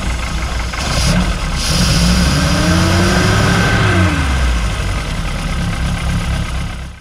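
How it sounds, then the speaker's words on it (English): An old engine running rough and misfiring, not firing on all cylinders, churns loud and close with a lumpy, uneven idle and a brief weak rise in revs midway, with no talking. "You can hear it definitely sounds like it's not running on all the cylinders."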